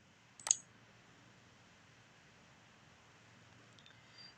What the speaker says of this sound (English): Now we have to click on this install button.